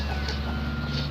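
A chicken clucks softly outdoors at a rural home in the province, the brief calls sitting over a steady low hum.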